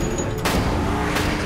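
A modified .50 caliber machine gun firing explosive rounds, heard as a dense, loud burst of booming shots that merge into a continuous roar over about a second and a half.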